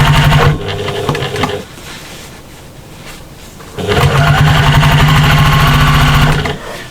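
A sewing machine stitches dark denim patchwork for a shopper bag, running loud and fast in a steady mechanical whir, easing to a slower hum in the middle, then speeding back up to full rapid stitching.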